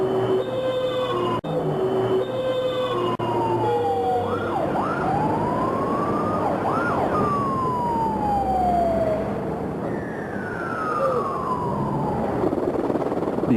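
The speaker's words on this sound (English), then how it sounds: "the hushed silence was broken by the wail of sirens" Emergency vehicle sirens wail continuously in a city after the Newcastle earthquake, several overlapping tones rising and falling, loud and close, with no voices.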